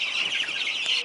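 Poultry chicks in a wooden brooder box built from a 1942 design give off a dense, continuous chorus of high peeping and clucking, steady and close throughout with no speech.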